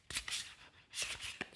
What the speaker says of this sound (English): So I'm shuffling the cards at the moment